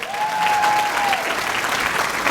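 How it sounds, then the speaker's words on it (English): A graduation audience at a Miami-Dade Police Department law enforcement academy ceremony claps steadily for about two seconds. The applause is dense and even, with a faint high tone running across the start. "by a clap of hands, how many want to hear the exciting speech?"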